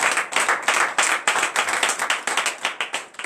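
Congregation clapping together at an early morning prayer service in Comè, Benin: steady, dense rhythmic handclaps with regular pulses, close and fairly loud, no voices over it.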